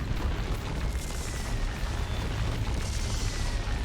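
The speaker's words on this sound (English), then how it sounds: "Orbital bombardment." An orbital bombardment in the Dawn of War 2 strategy game lands as a continuous deep rumbling barrage of explosions, dense and loud throughout the short stretch.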